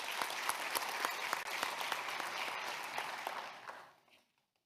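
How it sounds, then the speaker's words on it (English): Audience applause at a regional educators awards and scholarship ceremony, a full round of clapping that holds steady and then fades out to silence near the end. "let's give him a round of applause"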